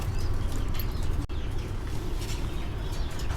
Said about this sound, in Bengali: তো আমরা 16 নাম্বার খাঁচায় দেখতে পাচ্ছি এক জোড়া ইন্ডিয়ান লুটন কবুতর